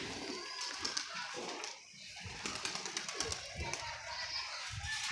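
A pair of pigeons kept as pets, cooing softly in short repeated phrases close by, with someone talking over them throughout.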